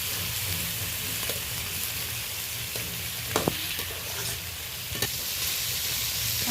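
Onion and crab sizzling steadily in a hot pan, a constant close frying hiss broken by a few sharp taps and scrapes of the stirring utensil.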